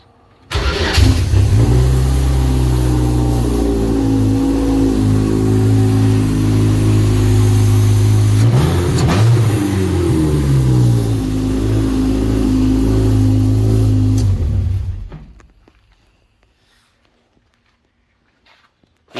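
Race car engine still running after a crash at a destruction-night race, loud and close, a rough revving drone with blips before cutting out abruptly near the end into quiet.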